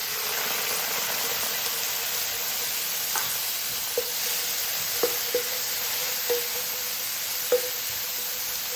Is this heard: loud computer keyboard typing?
no